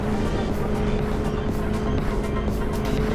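A sandrail drives a desert trail at night on the dunes of Glamis near Gordon's Well, a loud, continuous engine drone with road and wind rumble, steady and close throughout.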